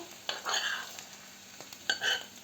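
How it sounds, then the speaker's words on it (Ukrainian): Fried cabbage being scraped and stirred out of a pan into a bowl, with a few close scraping strokes and faint sizzling in a quiet kitchen. "Тепер ми цю капусту будемо викладати обратно в миску."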